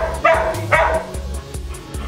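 A Border Collie barks repeatedly at close range, sharp loud yips coming in a quick uneven series with whimpery edges between them.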